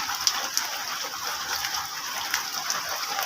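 Rain falling outdoors during the rainy season while palm toddy is being gathered, a steady hiss of drops with occasional louder splashes, heard alone without talk.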